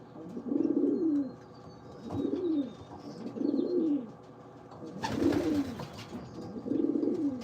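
Pigeons cooing inside a loft, a series of soft rhythmic coos repeating about every second and a half, close and steady, with a brief burst of wing flapping midway and no talking.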